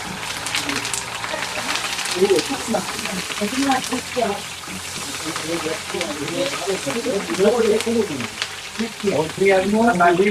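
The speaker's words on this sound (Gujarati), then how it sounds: "મરચા તળી નાખીએ પેલા મરચા તળી" Chili peppers crackle and sizzle in hot oil, a continuous busy frying noise with voices talking over it throughout.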